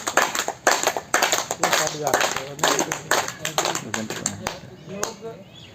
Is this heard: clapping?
yes